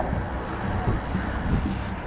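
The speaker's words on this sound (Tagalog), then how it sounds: "ang lakas talaga ng hangin." Strong wind buffets the microphone in a steady, rough roar that fills the whole moment, with no clear voices.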